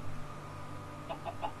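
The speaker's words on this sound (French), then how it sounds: "Eh, mais y'a combien de poules?" Chickens in the Minecraft video game give a quick run of three short clucks over a steady low background hum, faint and close together near the end.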